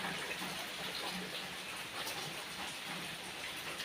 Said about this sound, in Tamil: தொடர்ந்து மழை பெஞ்சிட்டு வரவெல்லாம் போயிடுது பாருங்க